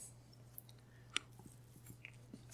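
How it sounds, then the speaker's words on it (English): Faint, sporadic wet chewing clicks and smacks come through a telephone receiver over a low steady hum, ending in a brief louder crackle. "sound from the receiver, like chewing."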